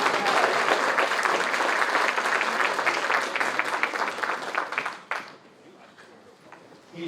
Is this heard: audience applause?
yes